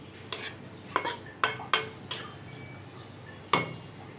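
A pot of papaya curry is handled on the stove, with a series of sharp metallic clanks and clinks of utensil against pot, about six knocks spaced irregularly over quiet kitchen background, with no talking.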